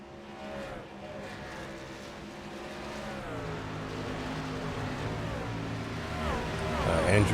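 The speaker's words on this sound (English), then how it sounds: "we are back up and running with audio to match up with our race car sounds of vroom vroom" Race truck engines in the iRacing video game at Iowa Speedway, a dense steady roar of several engines with pitch sweeps as they shift and pass, growing louder toward the end.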